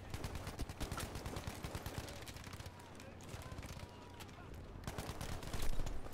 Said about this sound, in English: That MG42 though.